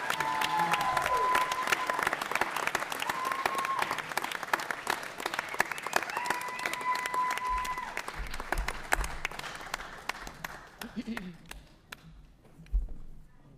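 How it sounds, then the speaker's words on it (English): Student award recipients at a school board meeting get a round of applause from the room, clapping steady through most of the stretch with background talk and a few tones, then thinning out near the end. "Let's give them another round of applause."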